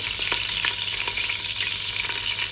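Garlic fries in a hot pan of oil before pork ribs go in, a dense, steady sizzle close up with faint stirring scrapes, loud and continuous with no voices.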